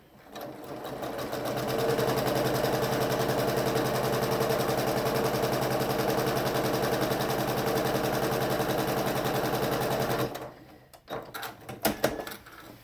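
A sewing machine stitches quilted table runner strips in a long, steady run of rapid mechanical chatter for about ten seconds, then stops, followed by a few faint handling clicks.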